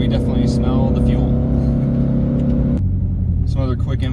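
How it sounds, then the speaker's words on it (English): A turbocharged Toyota FRS with 54,000 miles runs loud and close from inside the cabin, a steady engine drone with whistling turbo tones that shift partway through, while people talk over it. "Hopefully you can hear all that turbo noise, because we definitely smell the fuel."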